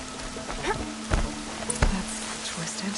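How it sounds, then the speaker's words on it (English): Rain pours steadily in the video game Horizon Zero Dawn, a constant broadband hiss with a few soft thumps and rustles over it. "Raining like it's trying to wash everything away."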